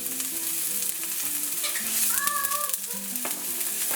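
Onions sizzling and frying in oil in a skillet, a steady close crackle with faint stirring scrapes and a few brief tonal squeaks from the pan.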